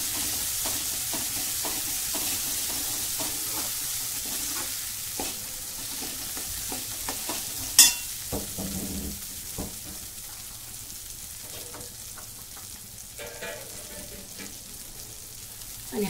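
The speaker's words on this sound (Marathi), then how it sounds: "तेलात छान असं परतून द्यायचं, म्हणजे काय होतं ग्रेव्हीला छान कलर येतो." Masala sizzling in hot oil in a pan for gravy, stirred now and then, with a steady low fry and occasional louder spatters and scrapes close by, no talking.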